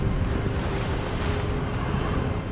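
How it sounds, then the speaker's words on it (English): Steady wind blowing through Hogwarts Legacy, a broad, even rushing roar that holds at one level without pause. "It's very windy."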